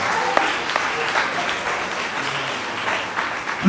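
Church congregation applauding together, a dense steady wash of clapping from many hands filling the room, holding at an even level throughout with a slight swell at the end.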